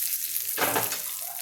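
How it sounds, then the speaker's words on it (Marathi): Hot ghee with red chilli hits bisi bele bhaat rice with a sudden, sharp sizzle that flares up close and then settles into a softer crackle. "आता मी या बेसी बेळी भातवर ही लाल मिरची तुपाची फोडणी घालते"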